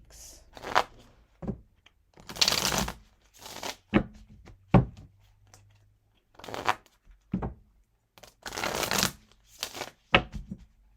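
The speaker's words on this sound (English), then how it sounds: "You did see me shuffle." Tarot cards are shuffled in repeated riffling bursts, each a short crisp flurry of card edges with brief pauses between them, close and clear with no talk.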